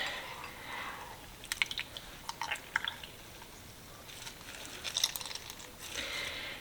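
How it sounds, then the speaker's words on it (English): Milk-soaked Italian bread squeezed by hand, giving soft wet squishes and drips in short quiet bursts, clustered in the middle and again near the end. "now I'm going to squeeze out the milk"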